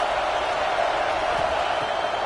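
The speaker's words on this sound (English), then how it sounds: "This crowd trying to make life miserable for this offense." Steady roar of a stadium crowd in the College Football 26 video game, a dense, constant wash of noise with no breaks.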